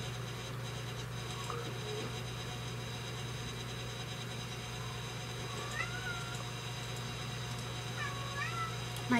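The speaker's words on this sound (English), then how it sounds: "My cat's crying." A cat gives a few faint, thin meows around the middle and end, heard over a steady low hum with what sounds like an idling engine.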